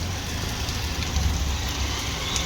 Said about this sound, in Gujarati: બહાર વરસાદ ચાલુ છે.